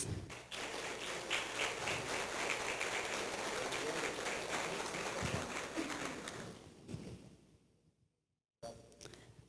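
Symposium attendees applaud the presenting doctors, a broad, steady wash of clapping from a large audience lasting several seconds before tapering off, a brief silence, and a return of sound.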